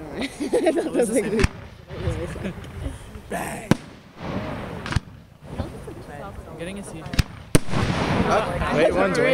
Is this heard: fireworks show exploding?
yes